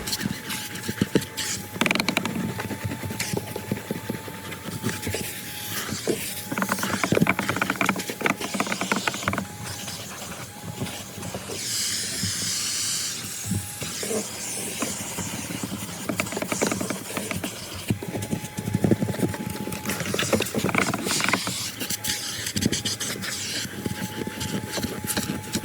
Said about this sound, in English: the George is doing its magic, sucking all the stains out